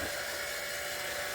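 Small electric motor of an automatic chicken coop door opening, a steady close whine held through the whole brief stretch without talk.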